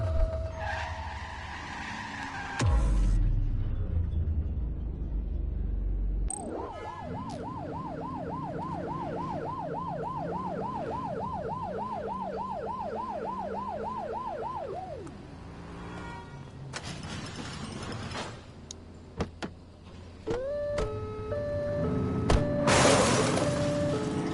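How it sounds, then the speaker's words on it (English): A police car siren in the video game The Precinct wails in a fast, steady up-and-down cycle for about nine seconds, amid engine noise, a skid, and scattered game sounds before and after. "Turn that siren off."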